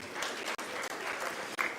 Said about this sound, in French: On applaudit Madame Thiako.